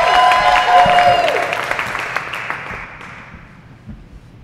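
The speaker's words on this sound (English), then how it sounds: "You will applaud." A theatre audience at an open stage show bursts into applause, loud and close at first, then thinning and fading away over several seconds into scattered claps.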